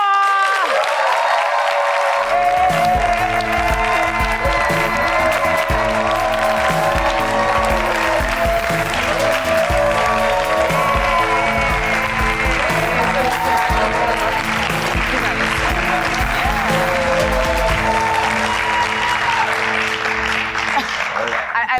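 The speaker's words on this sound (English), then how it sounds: "with thunderous claps, welcome with me, Ramsey" Loud, sustained audience applause and cheering at a Nollywood talk-show taping as actor Ramsey Nouah is welcomed, a dense wall of clapping with crowd noise and background music running throughout.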